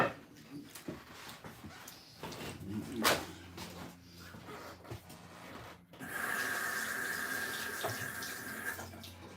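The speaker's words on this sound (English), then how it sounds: "I'll rinse my hands off." Water runs from a tap as hands are rinsed beneath it, with a faint splashing stream at first, then a louder, steady gush of running water that carries on to the end.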